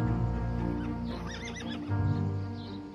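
Horses rescued and gathered from surrounding villages whinny in a short, loud neigh with a wavering pitch, alongside a few soft hoof clops and a low steady background hum.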